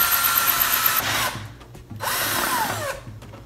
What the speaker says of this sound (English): I'm gonna start drilling slowly.